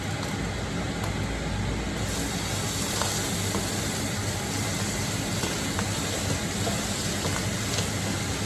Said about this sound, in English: we can start to transfer the minced meat into the frying pan